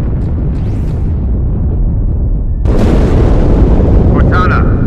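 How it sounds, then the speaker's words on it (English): A large explosion inside a ship in the Halo 2 space station level, a sudden broad boom that swells into a sustained heavy roar over a low rumble, with faint speech around it. "That explosion came from inside the Athens."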